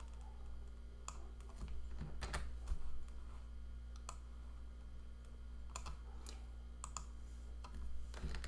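Computer keyboard keys clicked in short clusters of typing and shortcut presses while working at a command prompt, crisp taps spaced irregularly over a steady low hum, no talk.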